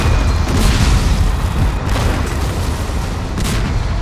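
Tank cannon fire and explosions in the snowbound war game War Front: Turning Point, a dense continuous roar of loud booms and blasts with no clear gaps.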